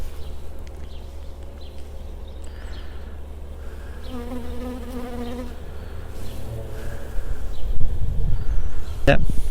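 Honey bees drone and buzz steadily around an opened hive during requeening, a close, continuous insect hum with a low rumble beneath and brief sharper knocks near the end.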